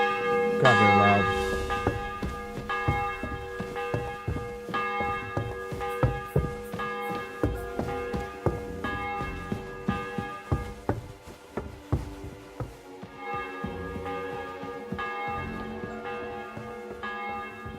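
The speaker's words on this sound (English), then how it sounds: "The bell's ringing for Hans the fifth time." Church bell in a medieval video game, ringing repeatedly with loud resonant clangs and long ringing overtones, mixed with tapping and knocking game sounds over the course of the stretch.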